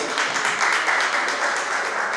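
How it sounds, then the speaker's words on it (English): A Yoruba Day 2018 audience in Melbourne applauds the president, a continuous, moderately loud wash of clapping that holds steady with no voices on top. "Please, a round of applause for our president"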